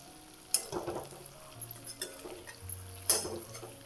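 Stuffed bitter gourd (karela) fries quietly in oil, a soft sizzle under a few sharp clinks and scrapes of a utensil against the pan, close and fairly faint.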